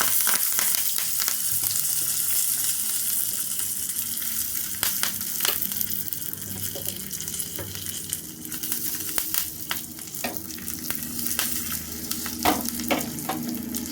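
Mustard seeds, cumin, urad dal, curry leaves and dry chillies sizzle in hot oil for a paddu chutney tempering, a steady hissing fry dotted with sharp pops and crackles, close and alone.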